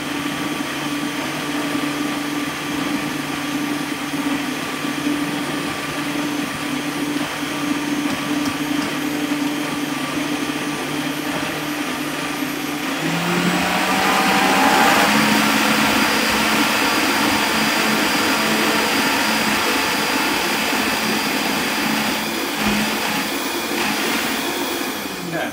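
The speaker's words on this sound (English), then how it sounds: "And I'm running this for quite some time here in the blender." A blender runs continuously while it purees hummus, giving a loud, steady motor whine. Partway through, the pitch shifts and the roar grows denser as the thick mixture churns, then it stays level without a break.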